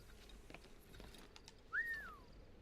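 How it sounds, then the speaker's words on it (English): A single rising-then-falling whistle rings out in Assassin's Creed 3, faint and brief, over a quiet background of soft clicks and game ambience. "Why are you whistling?"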